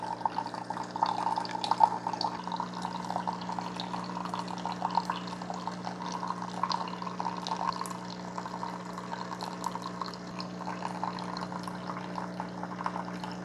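A reusable K-cup in an Instant Pod coffee and espresso maker brews steadily, with a continuous hum and a quiet trickle and drip of coffee filling the cup, no talking.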